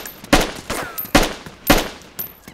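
Gunfire in the survival video game DayZ: three or four loud, sharp shots spaced roughly half a second apart, each with a short echoing tail, close and alone without speech.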